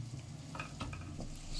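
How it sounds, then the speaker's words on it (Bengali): Spices and tomato fry gently in a pan with a soft sizzle, broken by a few quiet stirring scrapes. "এবার এটাকে আস্তে আস্তে ভাজতে হবে, টমেটোটাও গলবে, মশলাগুলোও ভাজা হবে আস্তে আস্তে।"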